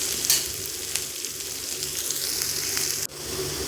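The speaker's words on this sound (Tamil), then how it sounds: "அதுக்காக நம்ம வந்து வெங்காயத்தோடு சேர்த்து நல்லா அது வந்து சுருண்டு வர அளவுக்கு நல்லா வதக்கிடலாம்." Pirandai (adamant creeper) sautés with onions in hot oil, giving a steady close sizzle and frying crackle with a few stirring scrapes, no voices.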